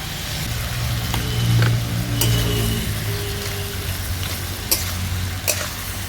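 Puin shak cooked with fish head in a pan for a Bengali chhyachra: a steady sizzle and bubbling as the greens are stirred and mixed, with occasional spoon scrapes and knocks against the pan.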